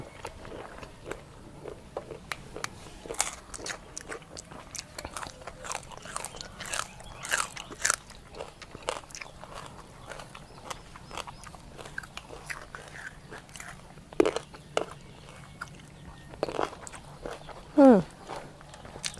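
Someone bites and chews crunchy squid tail soaked in fermented fish sauce, producing scattered sharp, close crackling crunches and soft mouth sounds at an irregular pace, with quiet talking at times.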